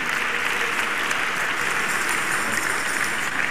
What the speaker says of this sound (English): Let's clap our hands for Jesus.